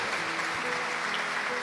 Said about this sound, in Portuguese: Agora eu vou pedir para você dar uma salva de palmas para todos os ungidos do Senhor.